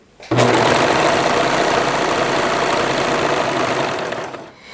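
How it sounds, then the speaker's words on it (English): A serger stitches a lettuce hem on knit fabric, starting abruptly and running at a steady fast whirring hum for about four seconds before winding down, close and loud. "lift up our presser foot, place our sample right underneath the needle, and make sure that the tail is out of the way, and start serging."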